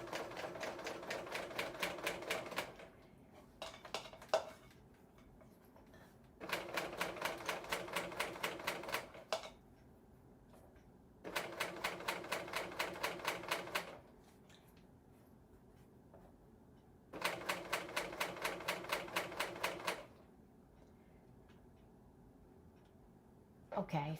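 A serger stitches a zipper insertion in four rapid whirring runs of a few seconds each. The runs are close and steady and separated by quiet pauses.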